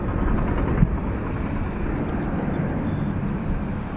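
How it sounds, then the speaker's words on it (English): An Airbus A321neo airliner arriving at Dublin Airport gives a steady, broad low roar that holds even and fairly loud for the whole stretch, with no voices over it. "It's an A321 Neo."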